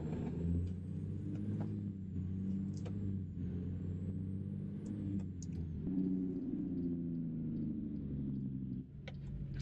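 Engine braking from a Peterbilt 350 truck in American Truck Simulator, a steady loud low-pitched rumbling drone that holds throughout with slight pitch shifts and no talk.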